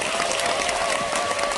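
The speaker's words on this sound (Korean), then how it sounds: "우리 윤복근 교수님에게 박수 한번 주시기 바랍니다" An indoor audience applauding Professor Yoon Bok-geun, a dense, steady patter of many hands clapping at close range, even in loudness throughout.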